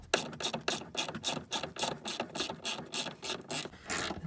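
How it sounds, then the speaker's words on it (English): A hand ratchet fitted with a 10 mm socket clicks in quick, regular bursts while loosening fasteners on the air vents of a 1999 Ford F150. The clicking is close and steady, with no talking. "Just using a 10 metric socket."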